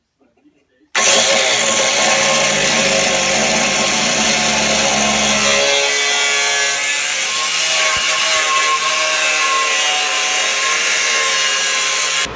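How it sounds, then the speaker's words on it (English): A cutoff wheel grinds through a steel door bar on a G-body car, a loud continuous close-up screech that starts abruptly and runs steadily to the end, its pitch shifting partway through. "I ended up just using a cutoff wheel."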